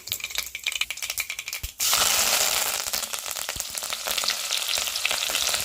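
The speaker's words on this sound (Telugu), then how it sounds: "తర్వాత అయితే పచ్చిమిర్చి కరేపాకు ఉల్లిపాయలు కూడా వేసేసుకుందాం" Green chillies, curry leaves and onions dropped into hot oil in a home kitchen: light clinks and rattles, then a sudden loud burst of sizzling frying that continues strongly with stirring scrapes.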